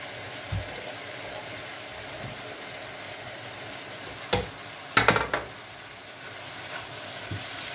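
Onions frying in oil in a pan for stuffed eggplant, with a steady soft sizzle throughout and a few sharper crackles and spatters near the middle. No one speaks.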